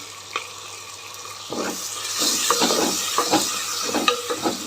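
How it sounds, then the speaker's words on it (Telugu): Curry leaves hitting a hot pan of oil while cooking a bitter gourd gravy, giving a steady crackling sizzle with stirring clatter. The sound swells after the first second and stays fairly close and loud with no talk. "ఇప్పుడు కరివేపాకు వేసుకున్నాం"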